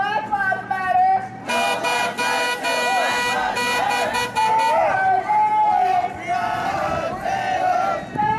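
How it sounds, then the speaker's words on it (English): Car horns honk at a street protest in Louisville, Kentucky, loud and close. Short toots repeat among a shouting, chanting crowd and general hubbub. "Honk their horn like they wanted gas."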